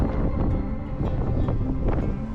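Strong Bura wind buffets the microphone in the Velebit mountains of Croatia, a steady, loud, rumbling roar on an exposed peak, with no voices.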